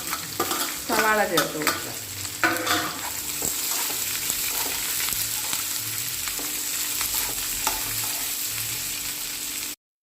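Sliced onions hit hot coconut oil with coconut pieces in a pan, setting off a loud, continuous close sizzle with a few stirring scrapes early on, while a voice speaks briefly over it.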